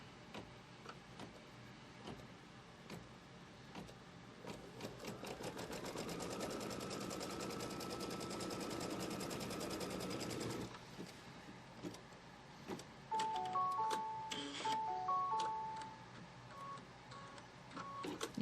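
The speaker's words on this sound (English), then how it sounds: "put the foot down, and it's going to tack this down, running a stitch from here over to the left" An embroidery machine runs a tack-down stitch on a Pumpkins & Potions quilt block, a faint mechanical hum and rapid stitching for several seconds, followed by a few soft beeps from the machine.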